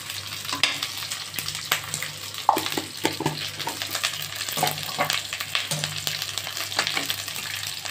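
Two spoons of poppy seeds fry in a pan for chicken korma, crackling in a steady sizzle broken by frequent spoon scrapes and taps, with no voices over it.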